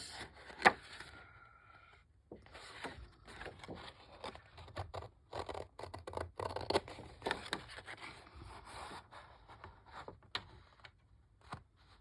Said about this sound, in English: So I'm just going to cut around the edges.